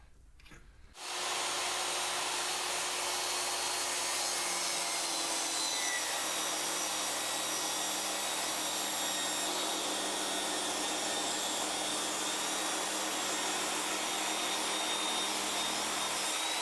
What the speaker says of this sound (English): We'll rip this one by chunk of poplar real fast.